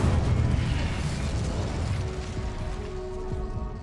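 Spell-casting explosions from the Hogwarts Legacy video game burst and rumble in a dense, loud low-end blast that slowly fades, with mechanical clatter and a faint ringing tone near the end.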